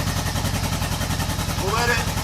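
A 1975 Honda Goldwing 1000cc motorcycle engine idles with the choke on, a steady, even low-pitched rumble that holds level throughout, with a brief higher squeal rising near the end.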